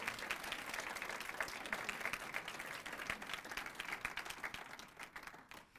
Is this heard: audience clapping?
yes